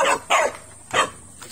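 A dog barks three times in quick, sharp bursts, loud and close, with short pauses between each bark and no talking.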